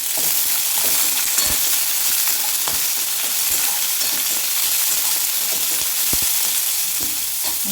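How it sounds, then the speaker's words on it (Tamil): Onions sizzle in hot oil with dried red chili, green chili and curry leaves, a steady dense frying hiss with occasional stirring clinks, close and continuous. "இப்போ நம்ம வச்சுருக்க வெங்காயத்தை இதில் சேர்த்துக்கலாம்."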